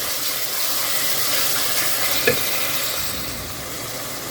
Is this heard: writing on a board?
no